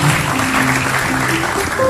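Studio audience applause on a television talk show, a steady, dense wash of many hands clapping at once, loud and sustained for the whole stretch.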